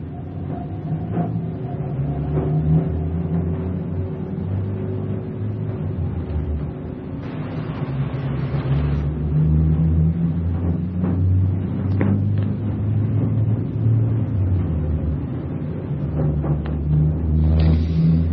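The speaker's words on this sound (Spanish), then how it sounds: "Escuchar estos sonidos como de motores, de vehículos" Continuous low engine drone with shifting tones, like motor vehicles running and revving at a distance, steady throughout with occasional brief surges; from a recording made in October 1986.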